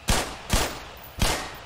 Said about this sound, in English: That explodes when I shoot it.